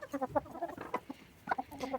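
A broiler hen clucking up close in short, uneven bursts, with a few louder squawky notes mixed in and no talking.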